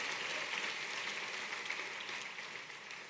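A church congregation claps together in a continuous, even wash of many hands that sounds fairly distant and soft and tapers slightly at the end, with no voices over it.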